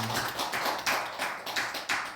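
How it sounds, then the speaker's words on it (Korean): A church congregation claps together in applause after a prayer, a dense, steady patter of many hands with a few stronger swells, fairly faint and without talk. "하나님께 영광의 박수를 올리시겠습니다"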